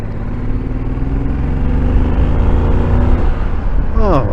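Triumph Thunderbird 1700cc motorcycle engine pulling hard under acceleration, a steady loud low rumble with rising harmonics and a brief rising whine near the end, continuous throughout.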